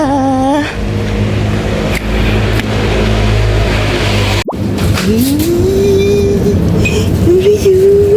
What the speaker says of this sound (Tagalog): yung naririnig ko yung kotse